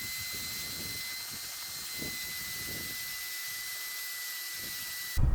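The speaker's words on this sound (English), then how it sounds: "I'm going to keep going on the floor mats, and I'm just going to start by vacuuming them as well." A vacuum cleaner runs steadily on car floor mats while cleaning a used car's interior, a constant high whine with a broad rushing hiss and uneven low thumps as the nozzle works the mat.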